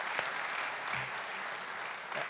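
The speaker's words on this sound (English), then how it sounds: "Sure, you deserve an applause." Audience applauding at an Albanian Independence Day celebration held in City Hall, New York City, heard as a soft, fairly distant patter of clapping that goes on throughout.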